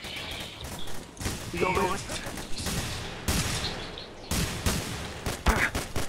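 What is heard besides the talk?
gunfire in a video game (The Hidden)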